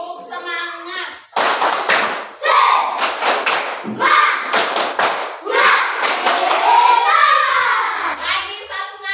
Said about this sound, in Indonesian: Lagi satu kali, tepuk semangat.